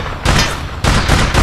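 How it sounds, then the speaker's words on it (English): Gunfire in the online shooter APB Reloaded: dense, loud bursts of rapid shots with a short lull between volleys, close and unbroken, with no voices over it. "I'm trying to shoot this guy."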